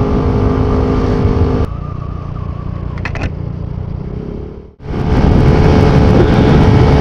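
A motorcycle rides over a bumpy, potholed road in Palauig, Zambales, giving a steady close engine drone with wind rush that briefly dips near the end and then returns loud.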